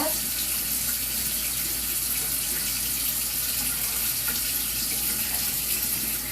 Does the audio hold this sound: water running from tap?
yes